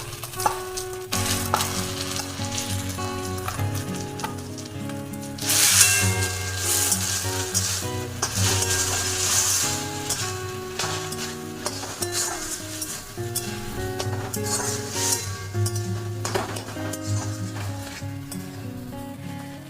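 Onion paste added to hot oil with ginger paste in a pan, sizzling steadily while being stirred, with occasional utensil clinks against the pan.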